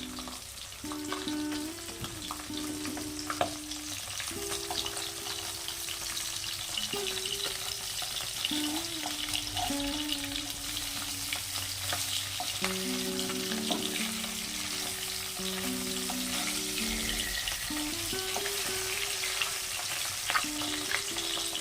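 Pabda fish, coated with turmeric, fry in hot oil in a pan, a steady close sizzle and crackle lasting throughout with no talking.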